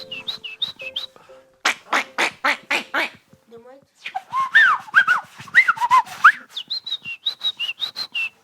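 A person whistling an imitation of a great tit's call, clear repeated two-note phrases in short rhythmic bursts with some sliding whistles in between, close and loud with no talk.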